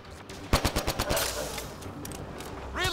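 Plasma-modded assault rifle fires in Mass Effect Andromeda, a quick burst of sharp rapid shots followed by quieter scattered battle noise and a rising whine near the end.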